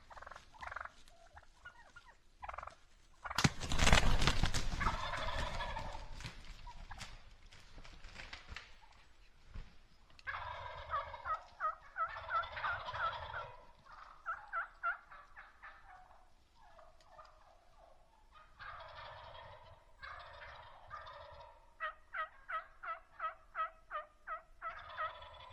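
Wild turkeys gobble in repeated bursts around grind decoys in a Nebraska field, loud and fairly close, with a heavy rustling thump early on and scattered patter between the calls.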